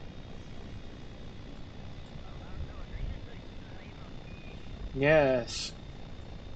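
Rotorcraft engine in Kerbal Space Program throttling up: a steady, rushing propeller-like drone holds throughout, with a brief voice and a louder swell near the end.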